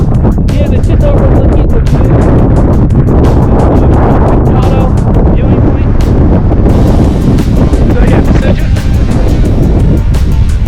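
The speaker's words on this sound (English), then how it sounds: "It's kind of windy out" Strong wind on an Arizona hike blasts constantly against the microphone, a loud continuous roar with buffeting gusts throughout.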